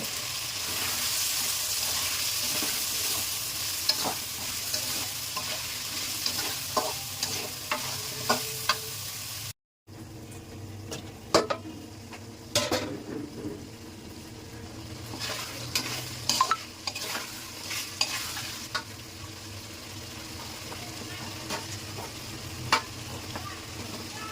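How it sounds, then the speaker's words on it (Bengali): Potatoes fry in hot oil with salt in a pan, a loud close sizzle under frequent spatula scrapes and taps, cut by a brief break of silence before the stirring and frying carry on. "আলু কষানো হয়ে গেছে"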